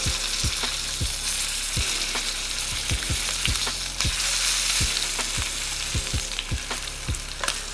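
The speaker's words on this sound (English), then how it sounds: "So when I'm cooking a filet, I like to sear the edges as well." Filet steaks searing on their edges in a hot pan, a loud steady sizzle punctuated by regular knocking thumps as the meat is turned and rolled, with no voices.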